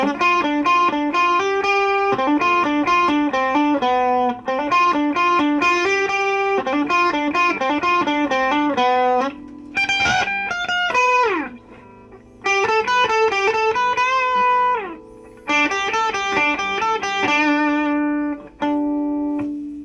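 A loud distorted electric guitar solo with fast melodic runs and bends, briefly pausing midway before continuing.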